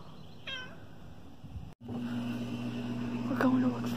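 A short cat meow near a barn, fairly faint, followed by a rising, wavering cry later on over a steady low hum and background noise.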